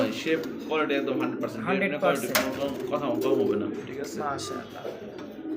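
Blue barless pigeons coo in soft repeated calls heard close by, mixed with someone talking over them and a few sharp clatters.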